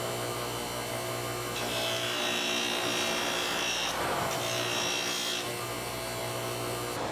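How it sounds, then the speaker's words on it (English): A rotary tool fitted with a Wonder Wheel grinds steadily into wood, shaping the nostrils of a carved tiki face, with a continuous close, loud abrasive whine that shifts pitch as pressure changes, with no talking. "Then I used the Wonder Wheel to shape the nostrils of the nose."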